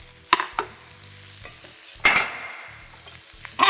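Garlic honey chicken stir fry frying in avocado oil in a pan, a low steady sizzle broken by a few sharp scraping and stirring clatters of a utensil, close and moderately loud with no talking.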